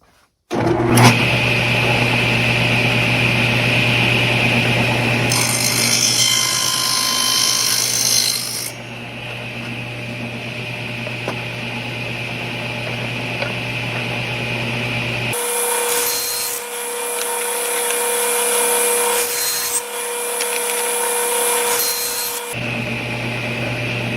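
A table saw cuts partway through a wooden frame, its motor whining steadily while the blade rasps through the wood in passes, with brief pauses between cuts.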